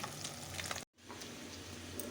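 Fish fries in a pan with a steady, close hiss and crackle of hot oil; the sizzle cuts out for a split second partway through, then resumes at the same level.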